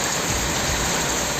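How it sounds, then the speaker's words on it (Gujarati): Heavy rain pouring down steadily in a village, a dense continuous hiss with no distinct thunder heard. "ગાજવીજ સાથે વરસાદ"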